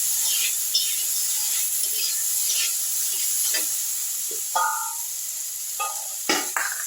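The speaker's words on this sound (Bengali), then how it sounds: "নুন হলুদ দিয়ে আমি আলুটা একটু ভেজে নিলাম" Potatoes fry in a pan with salt and turmeric, giving a steady close sizzle and hiss, with occasional stirring scrapes and light utensil clinks over it.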